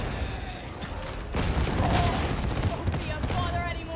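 A bolter fires in the video game Warhammer 40,000: Darktide, a dense, continuous stream of heavy booming shots that swells and rumbles throughout, loud and close.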